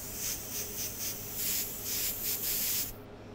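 Airbrush spraying paint for a portrait, a soft, faint hissing spray in repeated short bursts that stops abruptly near the end, with no talking.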